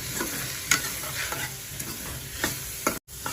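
Spoon scraping and stirring masala through a paneer and potato filling in a pan, with soft sizzling and a few sharper clinks against the metal; close and steady with no talking, broken by a brief dropout near the end.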